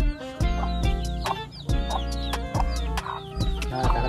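Chickens being fed cluck and squawk repeatedly in short bursts, close by and fairly clear, with several sharp calls over a steady low rumble.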